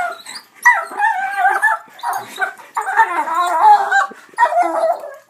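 Dogs playing indoors on a rainy day yip, whine and bark in excited bursts, close and loud, with short gaps between the outbursts.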